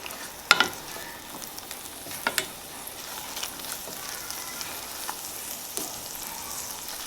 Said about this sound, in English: I want to get it nice and sizzling, get this garlic browned a little bit more.